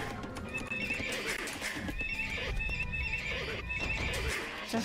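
Horses in a 4v4 Age of Empires match on the Lowland map: repeated whinnies and neighs with clip-clopping hooves over busy game battle noise, fairly quiet, no talking.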